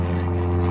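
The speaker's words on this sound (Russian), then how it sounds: "А у нас тут вертолет или самолет." A helicopter or airplane passes overhead during outdoor grilling, a steady low droning engine hum with rhythmic rotor-like pulsing, loud and constant throughout the brief moment.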